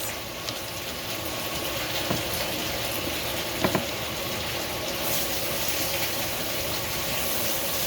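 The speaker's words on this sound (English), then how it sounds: "It's going to start sizzling, you guys." Onions sizzle in melted butter in a pan, a steady, dense crackling hiss that holds evenly throughout, close and moderately loud with no talking.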